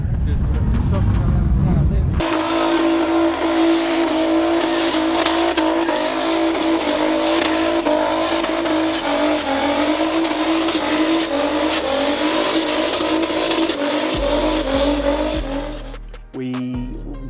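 A car engine roars loud and continuous in a skid, holding a steady high drone before dropping away near the end, while people talk over it.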